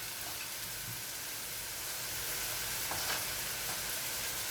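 Garlic and onions frying in a pan for a beef stew, a steady broadband sizzle that holds constant throughout with a few faint clicks of stirring, no voices.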